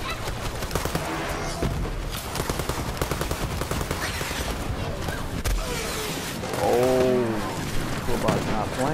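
Rapid gunfire in the video game Borderlands 3, dense bursts of shots rattling on continuously under excited player talk.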